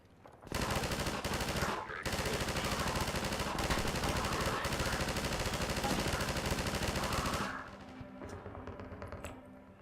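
In a video game, a player-controlled gun fires a loud, continuous automatic burst lasting about seven seconds before cutting off, leaving quieter ambient noise.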